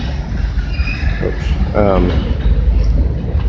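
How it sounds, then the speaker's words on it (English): Train rolling past an abandoned concrete products factory, a steady low rumble filling the background while a person speaks briefly close by. "so there's a train going by"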